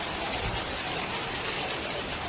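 Heavy rain pours in a dense, unbroken hiss amid strong wind, with no voices.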